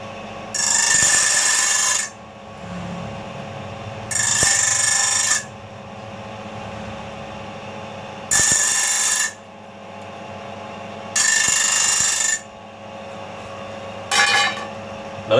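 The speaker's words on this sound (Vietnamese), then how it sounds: "Nói chung là mài thép cứng nha mấy anh" A bench grinder sharpens saw blades on hard steel, giving five loud, harsh bursts of grinding roughly a second long, spaced a few seconds apart, with a low motor hum running between them and no talking.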